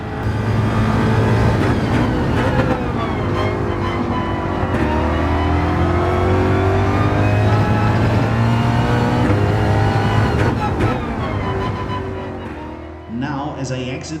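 Race car engine in Gran Turismo, a P2 prototype on an American track, droning loudly and steadily with shifting harmonic pitch as it exits a turn, fading near the end as other sounds enter.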